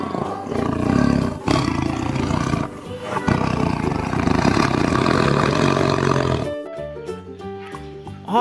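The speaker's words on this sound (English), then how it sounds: "What is this? Tiger. Wow, very dangerous tiger." A big cat roars loudly and at length over a rough, growling rumble, with a short burst of bright musical tones near the end; a tiger is the animal presented.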